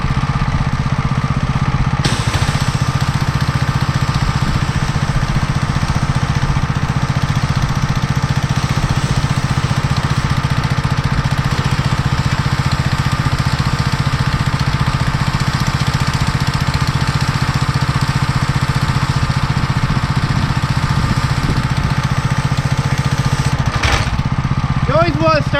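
A Simpson 3000 psi gas-powered pressure washer runs at a steady, loud engine drone for the whole stretch while a vehicle is rinsed off, with no pause or change in pitch.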